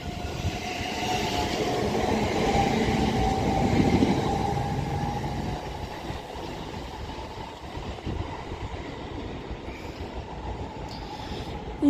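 A West Midlands Railway Class 730 electric train rumbles and hums close by as it departs Birmingham International station, building to a peak then easing into a steady rolling clatter as it pulls away; no voices.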